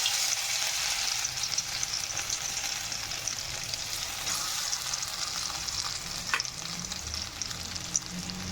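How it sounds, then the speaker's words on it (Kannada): Methi and kothimbir vada shallow frying in a pan, a steady, dense sizzle of hot oil that holds evenly throughout with a few faint scrapes, close and fairly loud with no talking. "ಶಾಲೋ ಫ್ರೈ ಮಾಡ್ಕೋತಾ ಇದ್ದೀನಿ"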